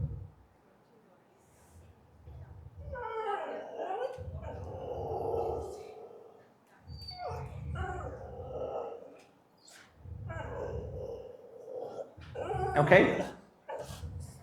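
Two dogs being introduced to each other in a behaviour training session bark and whimper in short bursts, with several people talking over and between the outbursts.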